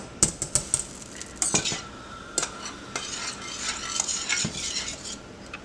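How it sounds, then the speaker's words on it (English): A spoon stirs a thickening mixture in a cooking pot, scraping and clinking against the metal in a few bursts, with a faint sizzle underneath, near and fairly quiet. "So I'm just going to keep stirring that"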